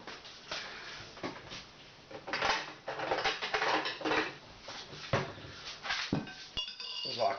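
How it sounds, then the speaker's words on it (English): Clinking of a small bowl used to hold screws, handled at close range during repair of a broken polisher, with metallic taps and knocks of loose hardware mixed with rustling, under steady background noise. "It's like I have a little bowl, something to put my screws and stuff in."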